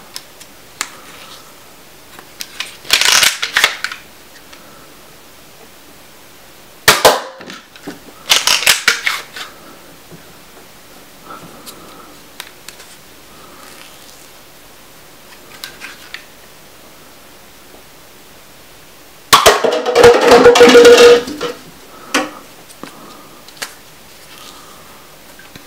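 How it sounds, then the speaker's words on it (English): Off-brand waffle-head foam darts fired from a single-shot spring-powered Nerf pistol: a handful of sharp snapping shots with short broadband bursts, spread across a quiet stretch with no talking. "Next up, we'll be firing these off-brand waffle head darts."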